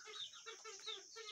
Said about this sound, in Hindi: तो ये तो माशाल्लाह बांग दे रहा है।